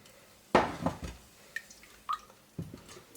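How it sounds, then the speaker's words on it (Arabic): A glass of water is poured into a cooking pot for a sweet apple tagine, giving a few short splashes and drips against the pot, close and fairly quiet, with no voices. "ندير هنايا كاس تاع الماء"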